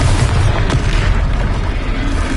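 An Expelliarmus spell is cast in a Harry Potter video game, giving a loud, dense whooshing burst that roars steadily for a couple of seconds.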